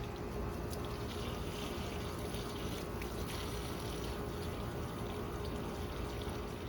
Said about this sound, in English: while I'm here watering, I gotta go water everything in the garden real quick